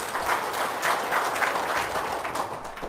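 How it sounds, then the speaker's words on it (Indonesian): Seated audience at a talk breaks into brief, fairly soft applause with clapping that rises and fades over a few seconds. "Tepuk tangan dong."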